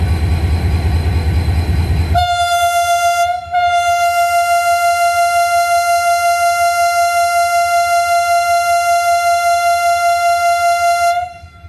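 A train whistle sounds at Drigh Road railway station in Karachi: after a noisy rumble, one loud, steady blast starts, breaks off briefly, then carries on for about nine seconds.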